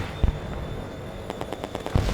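Call of Duty 2: Big Red One on the original Xbox, with tanks in a battle: rapid gunfire bursts and a few deep thuds of explosions over a rumbling battlefield background, moderately loud, with no speech.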